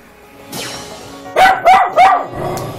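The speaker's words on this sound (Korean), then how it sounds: "여전히 짖고 경계하는데요" A wary, problem-behaviour dog barks and keeps guard during a training session: three loud, close, sharp barks in quick succession, with softer yelps and whining before and after.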